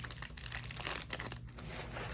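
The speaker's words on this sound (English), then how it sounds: "Sorry for the crinkling. It's in like a little bag here." Small plastic bag being opened and handled, quiet close-up crinkling and rustling in irregular bursts over a couple of seconds.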